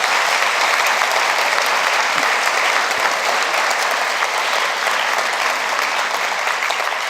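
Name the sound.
audience applause at prize-giving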